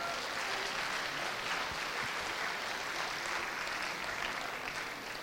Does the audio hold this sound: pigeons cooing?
no